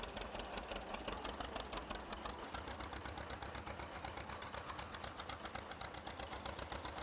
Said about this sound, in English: Oh, come on, tractor, push.